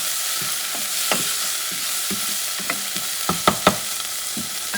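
Sausage and minced garlic sizzle steadily in a hot pan, with a utensil stirring and scraping at intervals, sharper knocks near the end, close up and with no talk.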